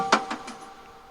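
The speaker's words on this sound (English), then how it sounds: "we have a moment where you put a coin into a machine" A sound effect of a coin dropped into a machine for an escape room game: three quick bright metallic clinks in a falling rhythm, fading into a faint ringing tail, with no voice.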